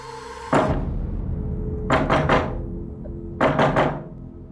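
A door locked from the outside is knocked and pushed in three bursts: one heavy thud, then two rapid clusters of three knocks each, close and loud over a low steady background hum.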